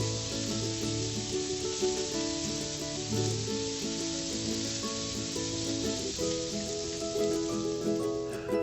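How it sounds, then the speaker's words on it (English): Patty pan squash sizzles on a grill preheated on high, a steady hiss of frying running throughout beneath a layer of tonal background music. "we'll throw the patty pans on the grill"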